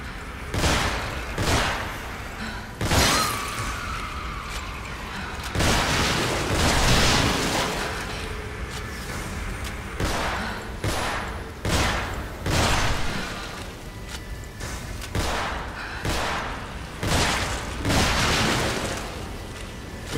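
Gunfire aimed at a monster in The Evil Within, loud sharp shots spaced irregularly across the stretch, some in quick pairs, each with a booming tail, alone without voices.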